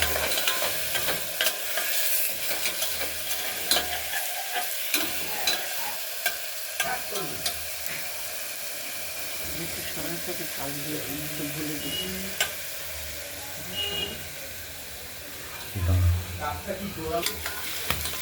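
Masoor lentils frying in oil with nigella seeds and bay leaf in a pressure cooker, giving a steady close sizzle broken by scraping stirring strokes and a soft thump near the end.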